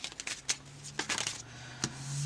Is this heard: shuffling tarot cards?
yes